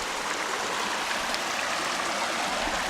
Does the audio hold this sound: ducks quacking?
no